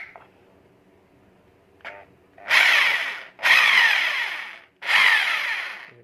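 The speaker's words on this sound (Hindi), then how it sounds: "ये देखिए हमारी ड्रिल ऑन हो गई है।" A repaired 20 mm hammer drill whirs up in three loud, close bursts, each starting abruptly and winding down, after a brief faint click and short buzz.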